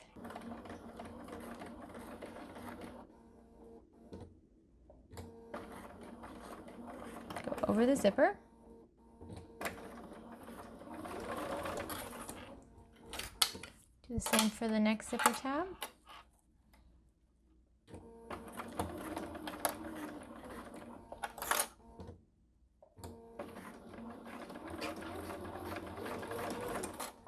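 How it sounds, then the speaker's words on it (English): A sewing machine stitches down a zipper on a Della wallet with a 2.5 mm stitch length, running in several bursts with pauses between them while a person talks over and between the runs. "Now let's take this to the sewing machine and sew it down."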